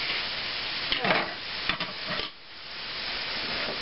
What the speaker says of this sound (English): I'm just going to let that simmer.